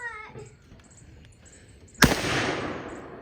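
A Kentucky muzzle-loading rifle fires once outdoors, a sudden loud boom that rolls off into a long fading rumble, after a stretch of quiet background with faint distant sounds.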